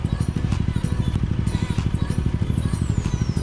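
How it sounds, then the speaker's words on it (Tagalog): Motorcycles pass along a street in Taiwan, their engines throbbing in a fast, steady low pulse close by, with faint clatter on top. "Maraming mga nakamotor dito palagi."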